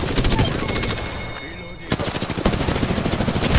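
Automatic weapon fire in the online battle royale shooter Apex Legends, loud rapid bursts in a dense stream that briefly drops away before resuming just as intensely.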